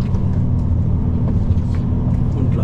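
A truck drives on a road in Germany near Kenn bei Trier. Its engine makes a steady, loud low rumble with a continuous drone from inside the cab.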